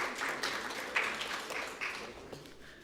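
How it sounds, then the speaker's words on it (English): An audience applauds the judges at a youth sitting event, a fairly quiet, steady patter of many hands that gradually tapers off. "give them a round of applause"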